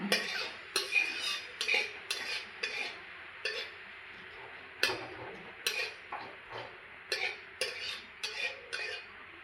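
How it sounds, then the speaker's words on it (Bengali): Dry red chili, white and black mustard seeds and panch phoron frying in a pan for raw mango chutney, heard as a steady series of sharp spoon scrapes and clinks against the metal, fairly close, with no talk. "আর নিয়েছি পাঁচফোড়ন দিয়ে দেব ভালো করে একটু ভেজে নেব"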